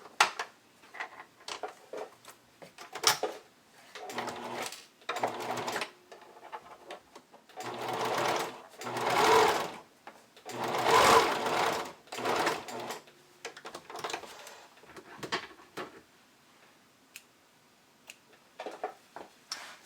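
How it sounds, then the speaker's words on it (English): A sewing machine stitches bikini bottom layers in several close, loud runs of rapid mechanical chatter, separated by pauses and quiet handling sounds of the fabric, with no talking. "I'm just going to use the sewing machine."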